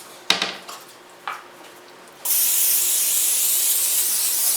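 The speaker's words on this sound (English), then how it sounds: "Let me spray the pan for you, babe." A few light clinks and taps in a kitchen give way to a sustained, loud hiss of cooking spray coated onto a pan, running unbroken to the end.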